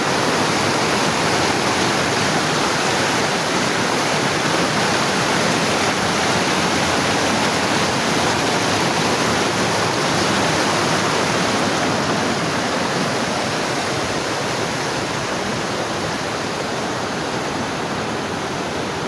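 Huai Kaeng creek at night, water rushing steadily and loudly with a dense, even hiss that barely changes, with no voices.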